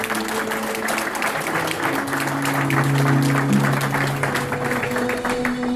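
A church congregation applauds and cheers in praise of the Lord, with steady, dense clapping from a large group filling the room at a loud level and a sustained keyboard or organ chord underneath.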